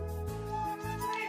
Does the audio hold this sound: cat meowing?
yes